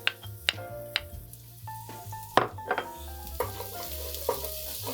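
Minced garlic sizzles in olive oil in a pot, a soft steady hiss under sharp clinks and clatters of a utensil stirring, with a low hum throughout.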